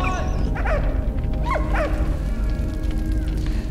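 A dog in the video game Valiant Hearts gives several short yips and whimpers in pairs over a steady game background, close and fairly clear.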